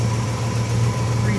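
A 1960 Chrysler 300F with its 413 Ram dual-quad V8 idles steadily nearby, a continuous low rumble with no voices over it.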